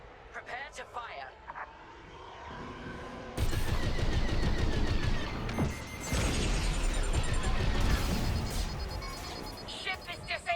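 Ion missiles striking a ship in the space combat game Star Wars: Squadrons: a sudden loud burst of blasts and crackling impacts, followed by more rumbling hits and electronic whines, with voices talking throughout.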